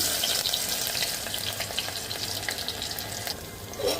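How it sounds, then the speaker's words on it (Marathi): Onion frying in about three spoons of hot oil in a pot, a steady close sizzle with faint stirring clatter throughout and no voices. "डिचकीमध्ये तेल घातलंय 3 चमचे. कांदा टाकूया आता."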